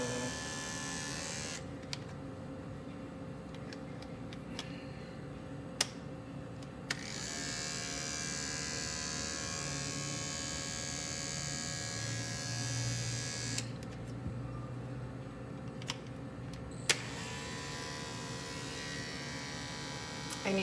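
Steady electric buzz of oiled dog grooming clipper blades running continuously close by, with a few brief pauses and faint clicks, no speech over it.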